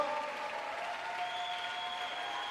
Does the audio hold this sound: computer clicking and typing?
no